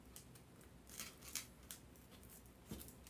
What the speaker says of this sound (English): I just take my scissors and carve a hole out.